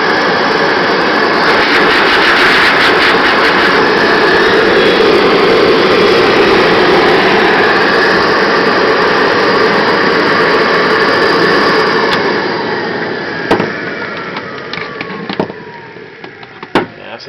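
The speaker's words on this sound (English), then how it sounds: "It's a Duradental, it's a dental pump. It's the one that makes just all the suction and stuff like that." A Duradental high-powered dental suction air pump runs with a loud, steady roar and hiss for about twelve seconds, then winds down and cuts out, leaving a few faint clicks and knocks.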